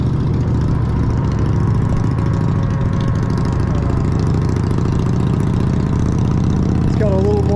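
A Harley motorcycle engine runs at a steady low rumble throughout, heard over continuous rushing ride noise from an e-bike, with a faint voice in the background.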